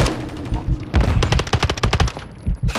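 Rapid automatic gunfire from Call of Duty: Modern Warfare 3, a dense burst of close, loud shots rattling in quick succession after a brief lead-in of softer game noise.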